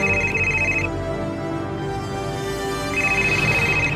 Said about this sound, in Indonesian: Abah yakin Aa Rehan pasti telepon Umi